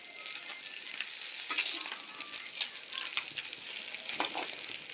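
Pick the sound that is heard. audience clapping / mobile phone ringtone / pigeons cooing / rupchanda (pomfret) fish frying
rupchanda (pomfret) fish frying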